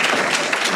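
Brief burst of applause from an audience at a women in business luncheon, a dense, loud clatter of many hands.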